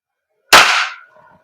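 A WE M4RIS V3 airsoft gas blowback rifle fires a single loud, sharp shot with a short fading tail, heard alone in a quiet setting.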